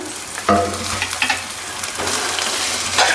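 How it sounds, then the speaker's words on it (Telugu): Thinly sliced cabbage, capsicum, beans and carrot fry in hot oil for egg fried rice, making a loud, continuous sizzle with clattering stirring strokes against the pan. "ఇప్పుడు అందులోకే సన్నగా కట్ చేసుకున్న క్యాబేజు క్యాప్సికము బీన్స్ క్యారెట్ వేసుకుందాం"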